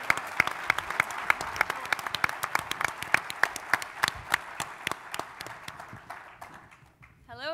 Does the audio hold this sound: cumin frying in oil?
no